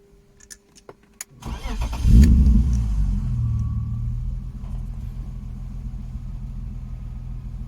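A BMW E36 330i engine cranks and catches after a few clicks, surges into a loud rev, then settles to a steady rumbling idle close by.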